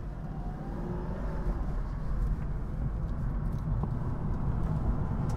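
A BMW E36 with a 4.6-litre V8 drones steadily at close range, a low rumble with a faint rising pitch as it gathers speed, no voices over it.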